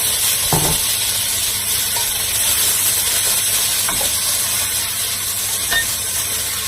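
Tomatoes hit browned onions in a hot pan, giving a loud, steady sizzle and hiss with a few faint clinks of stirring throughout.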